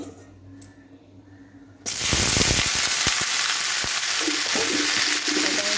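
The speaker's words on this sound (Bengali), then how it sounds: "এখন আমি এটাকে হালকা করে ভেজে নেব। কড়াইতে তেলটা গরম হয়ে গেছে।" Steamed jackfruit seasoned with salt and turmeric hits hot oil in a wok with a sudden loud burst of sizzling, then settles into a steady, close frying hiss with small spatters.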